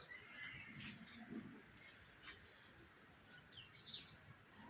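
Small birds chirp and tweet in short, scattered bursts against a quiet home backyard with jasmine plants and coconut trees, a few calls closer and louder than others.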